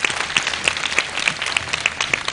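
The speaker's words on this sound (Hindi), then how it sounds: "सो आपकी बहुत सारी तालियां।" Studio audience at a Ramadan iftar TV show applauding the technical crew, a steady dense patter of many hands with regular louder accents, moderately close, no talk.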